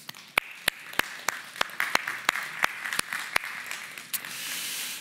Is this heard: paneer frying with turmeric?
no